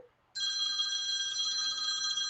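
A phone rings from inside a pocket, a steady electronic ringtone that starts suddenly after a brief quiet moment and keeps going, loud and close, with no voices over it.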